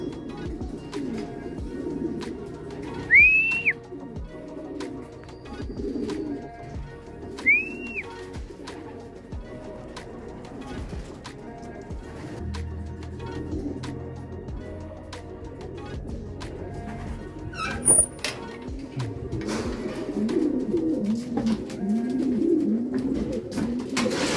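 Pigeons coo outdoors in the Quezon countryside, with a few distinct rising calls early on and later cooing scattered through steady ambient noise and a passing vehicle.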